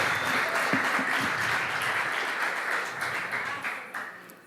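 A church congregation applauds during an evening service, a broad, even roar of many hands at moderate distance, with a few faint voices in the crowd.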